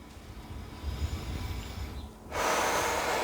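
A man breathing deeply and slowly to ease stress, steady airflow through the nose and mouth, with a louder, broad exhale rushing in near the end, close and alone.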